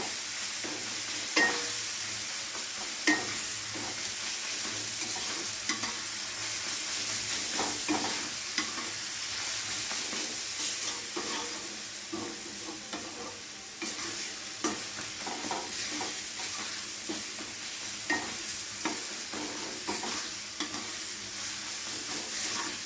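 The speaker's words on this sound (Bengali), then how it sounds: "মশলাটা দিয়ে তেলের সাথে খুব ভালোভাবে কষিয়ে নিতে হবে।" Spices sizzle steadily in hot oil for a dry potato dish while a spatula stirs and scrapes the pan, with a continuous close hiss and scattered soft knocks and scrapes throughout.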